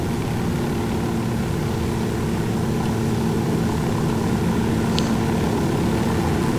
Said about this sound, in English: Narco planes straight ahead.